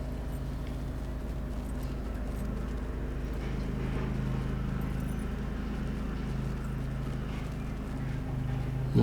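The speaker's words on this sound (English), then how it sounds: "My goat's name is Wild Eye." Hoofbeats of a goat mount in the video game Lord of the Rings Online, a steady clip-clop gait running continuously over a constant low game ambience.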